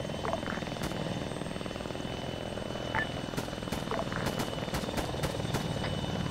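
A helicopter in the video game ArmA 3 keeps up a steady rotor thrum and engine whine, moderately loud and continuous, with sharp clicking game sounds scattered over it.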